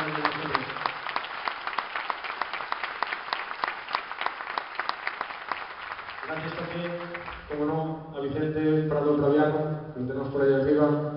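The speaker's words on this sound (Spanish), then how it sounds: "Un fuerte aplauso también por Pecho en Asturias" At an end-of-year school concert, an audience gives a burst of rhythmic clapping, then the applause gives way to singing or spoken announcement later in the stretch.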